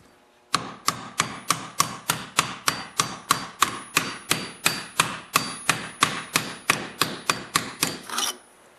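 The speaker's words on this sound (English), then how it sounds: "Get a bar that's going to fit right around the base of the bearing and hammer it down." Metal strikes ring out in a steady, even rhythm, about twenty-odd sharp hammer blows driving a bearing down with a bar in a Honda snowblower auger gearbox, close and loud.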